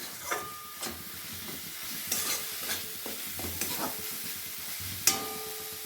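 Spices stirred and fried in oil in a pan for a Bengali potol chingri curry, giving a steady close sizzle with scraping stirs and a few sharper clatters of the spoon against the pan.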